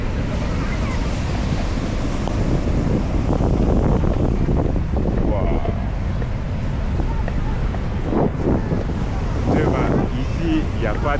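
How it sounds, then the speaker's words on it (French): Heavy surf at Paraíso, Dominican Republic, crashes and rumbles continuously with gusty wind buffeting the microphone; people talk intermittently over the roar. "les vagues sont intenses"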